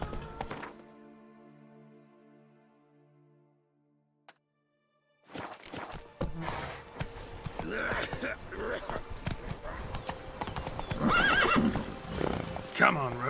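Roach, a horse in The Witcher 3, neighs and whinnies while hooves clop and thud in the game, busy and layered at moderate loudness after a silent stretch with a faint tonal start.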